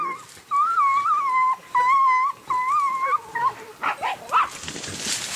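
Dog yelping and howling in distress during a Spanish hunt, a series of sustained, wavering high cries close by, then shorter broken yips fading into rustling noise.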